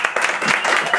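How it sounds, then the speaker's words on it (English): Brief burst of audience clapping at a closing-night ensemble reading, close and fairly loud, with individual claps standing out in a quick irregular patter for about a second. "So a big round of applause."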